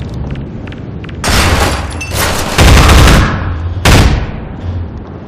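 Gunfire from an enemy soldier in Half-Life 2 comes as loud, close bursts of rapid shots with booming impacts, three main volleys separated by brief quieter stretches.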